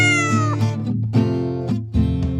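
Cat meowing in a series of drawn-out, tonal cries, roughly four in a row with short gaps, loud and close with nothing else behind them.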